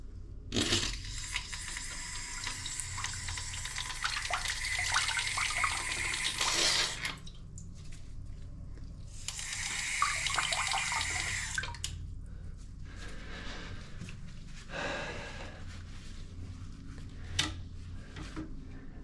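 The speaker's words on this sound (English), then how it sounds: "Basically, it's cold water." Cold water runs from a newly installed bidet attachment in steady hissing gushes, switched on and off several times, loud and close with brief gaps between flows.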